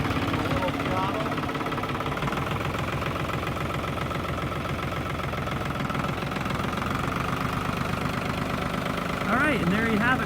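Tractor engine running in creeper gear as it pulls away, a loud steady idling chug with a knocking rhythm, with a voice speaking near the end.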